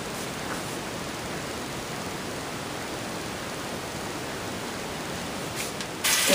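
Hot water runs steadily from a tap while a face cloth is wetted, a constant broadband rushing hiss at moderate level, briefly brightening with a splash near the end.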